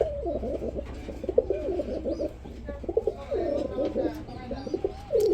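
Many pigeons at a pigeon market coo in dense, overlapping rolling phrases, near and continuous, over a low steady hum of the busy setting.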